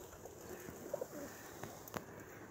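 Pigeons feeding in a park on a winter morning give a few soft, low coos at close range against quiet outdoor background noise.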